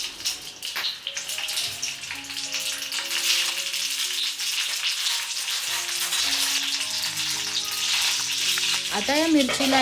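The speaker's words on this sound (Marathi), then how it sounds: "आता आपण मिरची शालो फ्राय करून घेऊ" Stuffed green chillies shallow frying in a little oil in a home kitchen pan, a steady close sizzle with crackling spatters throughout, with faint background music tones and a brief rising whine near the end.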